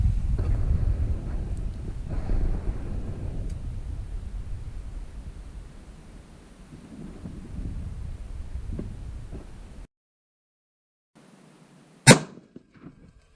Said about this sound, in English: it's pretty dang windy